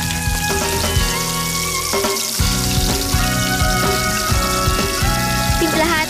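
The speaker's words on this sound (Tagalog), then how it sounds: "Iisa sa mainit na mantika ang sibuyas, kamatis at tuna." Onion, tomato and tuna sizzle steadily in hot cooking oil, with a continuous frying hiss running under prominent background music throughout.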